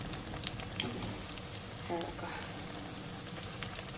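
Bread pakoda deep frying in hot oil, a continuous dense bubbling sizzle at close range with faint scattered pops throughout.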